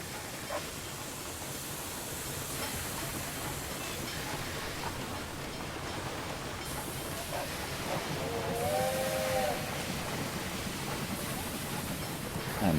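A steam train pulls into a San Francisco station in the game Railway Empire 2, with steady hissing rail noise throughout and a brief, clear whistle near the end, under a continuous mechanical background.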